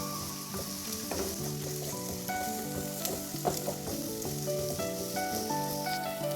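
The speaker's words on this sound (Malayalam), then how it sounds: "ഇനി നമുക്ക് അതിലേക്ക് ഇഞ്ചി വെളുത്തുള്ളി ഇട്ട് കൊടുക്കാം പച്ചമുളകും നമ്മൾ നന്നായി മിക്സ് ചെയ്തെടുക്കാം" Onions, ginger, garlic and green chili frying in a pan while a crab kadai is being cooked, with a steady close sizzle and occasional clinks of stirring throughout, and no talking.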